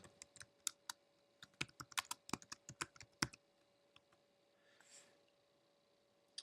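Someone types a folder name on a computer keyboard: a quick, irregular run of crisp, close key clicks, some louder than others, then a short pause and a soft rustle before a final click.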